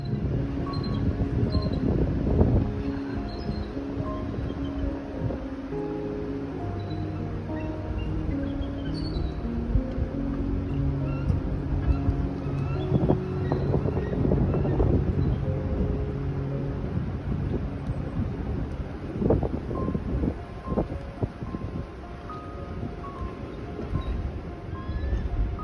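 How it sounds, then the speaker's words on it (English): Steady broadband wind buffeting and road rumble from a vehicle driving along the Chilkat River in Alaska, loud and continuous throughout with occasional heavier gusts and low thumps. "I hope you can bear with the road noise and the wind"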